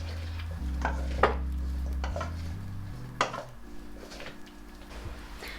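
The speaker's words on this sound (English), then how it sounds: "In my salads, I like to add some dried parsley, and then give that a good mix." Utensils scrape and clink against a bowl as a salad is tossed with dried parsley, a few sharp taps over a low hum, close and quiet with no talking.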